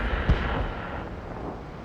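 A single deep tank cannon boom from World of Tanks gameplay, a sharp low thump early on followed by a rumbling decay under steady in-game engine drone.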